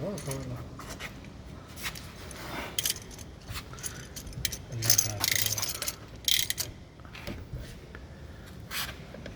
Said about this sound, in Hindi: रैचेड है यार उसको पीछे करके घुमा ले